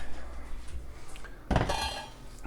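A metal soup pot of homemade chicken noodle soup with vegetables and spices is set back down on the stove. It lands with one close, clanking bump of metal against the burner, followed by a brief rattling ring.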